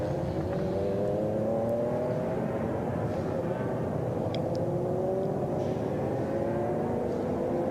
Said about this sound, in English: We'll see the cars coming around Ingwe in a moment.